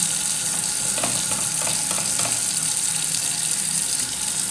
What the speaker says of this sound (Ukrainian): І два рази я промилюю пензлик, щоб він дуже добре відмився.